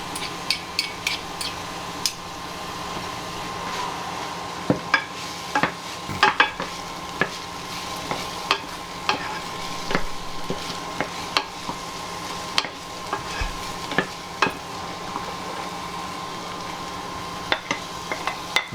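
Chopped onions and garlic sizzling steadily in a pan for beef samosa filling, with a spoon scraping and tapping through the stirring at irregular intervals and no talk.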